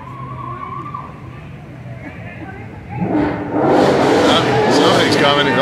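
A loud car pulls away from a street car show lined with spectators, its engine swelling and roaring close by after a few seconds of crowd murmur and chatter.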